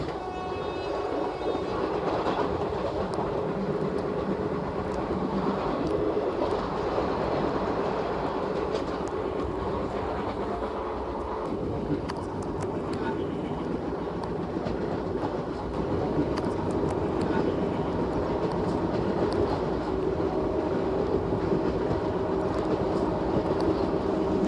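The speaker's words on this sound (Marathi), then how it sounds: "लोकल गाड्यांच्या एकामागून एक असं क्रॉसिंग होत आहे आता" Mumbai local trains pass one after another at night, heard from aboard an intercity express between Pune and Mumbai: steady rumbling rail noise, clattering wheels and brief horn blasts run throughout, loud and close.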